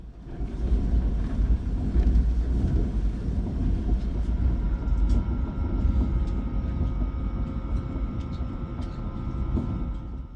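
A train rumbles steadily along the tracks through inland South Korea, a continuous low, dense roar with faint rattling and a thin whine, heard from inside the carriage.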